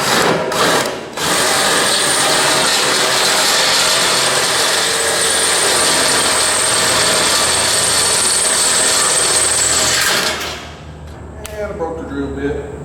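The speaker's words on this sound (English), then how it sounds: "So we'll see if I can get this to drill out of here now." A power drill spins a bit to bore out a hole on a Kubota diesel hot water pressure washer, running loud and steady for about ten seconds before stopping, followed by faint clicks and handling noises.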